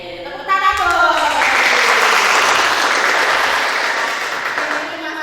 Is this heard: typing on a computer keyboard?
no